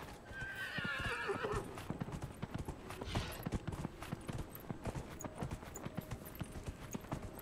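A horse in the Skyrim video game gallops with a rapid, continuous clip-clop of hooves and gives a high, clear whinny early on, close and prominent, with no voices.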